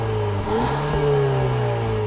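Mercedes-Benz GLA250 with a 2-liter turbo four-cylinder fires up and settles into a steady, loud idle hum close by, with a brief rise in revs at the catch.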